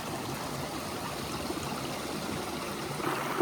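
A creek in the North Cascades rushes steadily over rocks as a broad, continuous wash of flowing water, close and loud, with no voices.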